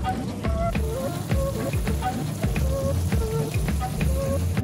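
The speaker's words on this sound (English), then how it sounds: "After melting the butter in a saucepan over low, simply add the chicken livers and saute until they're light pink." Chicken livers sauté in melted butter in a saucepan over low heat, giving a close, steady sizzle with crackling pops and a few stirring scrapes throughout.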